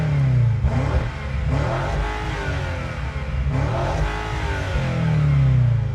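A BMW twin-turbo 4.4-liter V8 plug-in hybrid with an electric motor revs hard and close, its engine note swelling and falling in repeated throttle blips with no talking.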